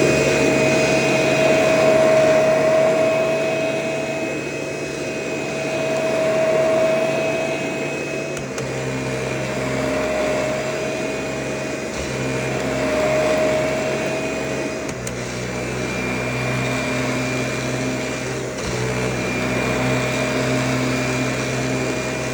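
A Kirby Heritage Turbo vacuum cleaner runs continuously over carpet, a loud close motor whine with steady tonal hum that swells and dips slightly as it is pushed back and forth in repeated passes.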